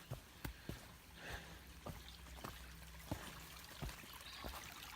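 Soft water trickling in a stream on the Appalachian Trail in Connecticut or Massachusetts, quiet and distant, with scattered small clicks and drips throughout and no talking.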